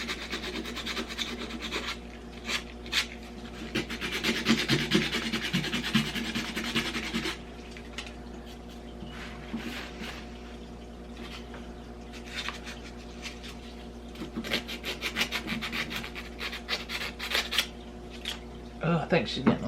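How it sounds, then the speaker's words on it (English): Sandpaper rubs over a painted leopard-print mannequin in close, rough, repeated scratching strokes that come in bursts with short pauses between them. "I'm afraid I'm gonna sand the word right off."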